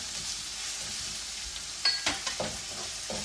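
Crushed onion hits a hot pan for barley soup, starting with a soft steady sizzle, then a few sharp clanks and scrapes of stirring toward the end.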